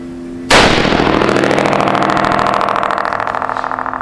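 A single sharp, loud .308 rifle shot through a muzzle brake cracks close by, followed by a long ringing, buzzing decay.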